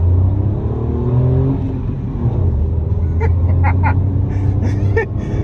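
A Toyota Vitz accelerating hard from first gear, heard from inside the cabin as a low droning engine rising in pitch, with a voice speaking briefly over it.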